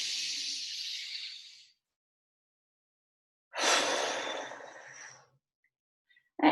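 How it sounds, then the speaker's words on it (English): A long, hissing exhale followed by a pause and then a second breath, loud and near, during a music lesson's breathing exercise, with a brief sound cutting in at the end and no speech. "We're going to try and completely empty out our lungs of any air when we do our deep breath out."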